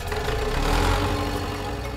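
A tractor engine runs at a steady idle, a low, continuous rumble with a faint rhythmic knock, close and loud, with no talking.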